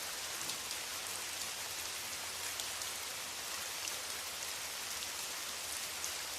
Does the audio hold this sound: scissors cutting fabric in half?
no